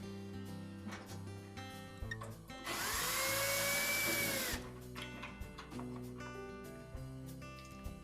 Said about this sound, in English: we'll need to remove the 2 screws through the center of those.